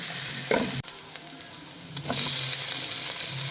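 Onion, ginger and green chilies sizzle in hot oil for a chicken curry, with occasional stirring clatters and a brief knock before the frying hiss grows louder.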